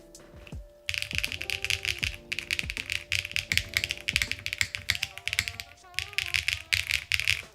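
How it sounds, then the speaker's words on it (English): Clacking keystrokes on a custom Integral mechanical keyboard resting on a desk, bursts of rapid bright clicks and rattles with brief pauses, close and crisp, with faint tonal hum underneath. "A keyboard?"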